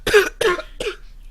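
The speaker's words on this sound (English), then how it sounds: "sorry, that cough was a long time coming." Three sharp coughs spaced about 0.4 s apart during a podcast recording, close to the microphone and loud, the last one shorter and weaker, with no talking over them.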